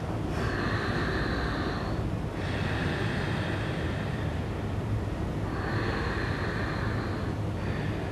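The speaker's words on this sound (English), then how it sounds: "So I'm going to give you a breath called the Ujjayi breath." Ujjayi breathing, a whispering breath made with a slight throat constriction, comes through as two long, soft airy hisses with a gap between them, close and steady over a low background rumble.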